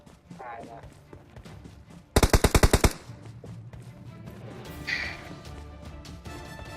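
Gunfire in PUBG Mobile: a sharp burst of about eight rapid automatic shots rings out loud in the middle, with scattered game sounds and someone talking before and after.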